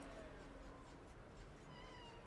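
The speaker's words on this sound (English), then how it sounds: "I don't know if y'all heard her meow just now." A cat meows softly, faint and fairly distant against a low, constant background hum.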